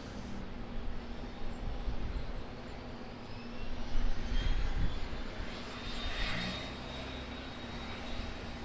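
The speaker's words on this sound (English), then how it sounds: "A320 on finals now, turning on to finals." An Airbus A320 on final approach at Auckland Airport, a steady jet engine roar from a distance that swells and fades slightly, with a faint high whine rising over the broad rumble.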